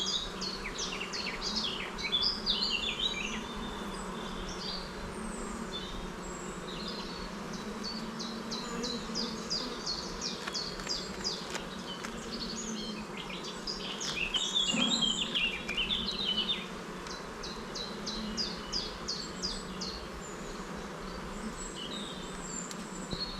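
Honeybees buzz in a busy, continuous hum at an opened artificial swarm hive, heard close and fairly quiet, with scattered bird calls in the background and no talk.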